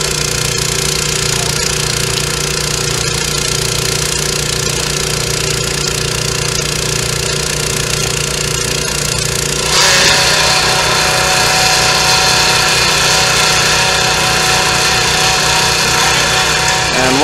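A water pump drones steadily beside a river while AquaDams are taken out, a loud, constant engine-like hum with a rapid pulsing beat that shifts pitch partway through and carries on without a break.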